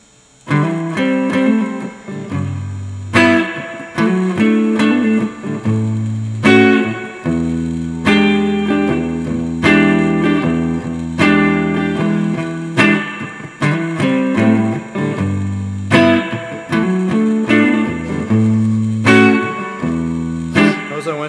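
Electric guitar playing chordal variations, a steady stream of strummed chords with fills and hammered embellishments, loud and close with no voices.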